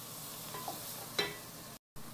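Onion, pepper, tomato and sauce sauté together in a pan for a shrimp dish with a low, steady sizzle, a faint stir-scrape near the middle and a brief dropout near the end.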